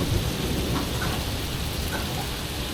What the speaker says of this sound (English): Getting caught in a massive storm while fishing for 2 days in Thailand.